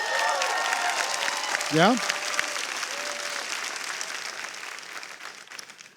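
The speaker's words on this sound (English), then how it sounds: "let me know by a round of applause" Audience applause at a company training event, a broad wash of clapping lasting throughout, with a brief spoken interjection over it.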